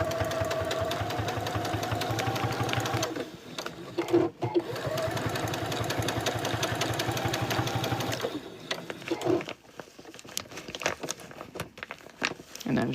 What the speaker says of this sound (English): You're going to back stitch at the start.